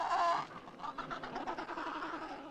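Penguins, flightless birds crowded together in Antarctica, give harsh, trumpeting calls, one loud braying call at the start followed by a continuous din of overlapping calls from the colony.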